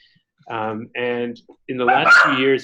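A dog barks in short harmonic bursts during a webinar, three or four close, loud barks spaced apart, with someone speaking over the last ones.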